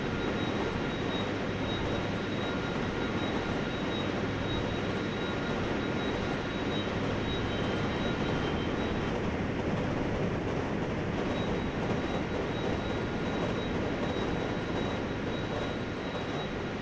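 A Seoul K1904 Rapid Express metro train in the Hmmsim Metro simulator game runs with a steady, even rumble and hiss throughout. There is no distinct passing whoosh.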